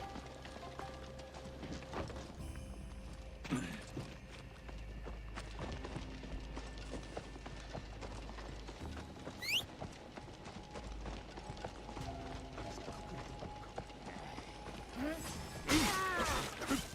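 Horse hooves clip-clop in Assassin's Creed Shadows, a soft steady trot heard at a distance beneath faint game ambience, with a few brief louder effects toward the end.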